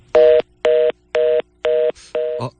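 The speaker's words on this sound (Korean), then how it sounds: "전화가 갑자기 끊긴 것 같습니다." A telephone line cuts out mid-call, leaving five evenly spaced steady tones like a dial or disconnect signal, loud and alone, ending in a brief crackle.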